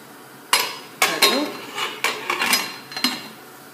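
Metal pots and a cocotte pressure cooker clank in a home kitchen, with about eight sharp, ringing knocks in an uneven rhythm, close and fairly loud.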